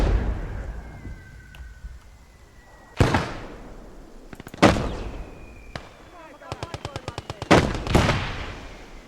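Gunfire from a medium machine gun in a war video game set in snow, with several sharp blasts and one rapid rattling burst, loud and close against a quiet, droning background.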